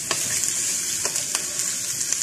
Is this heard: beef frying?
yes